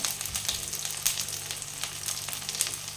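Spices for a kohlrabi and potato curry fry in a pan, producing a steady, close crackling sizzle with fine pops and no voices.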